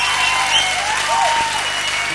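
Concert audience applauding a band's bassist at a live radio show, a steady wash of clapping lasting the whole stretch without a break.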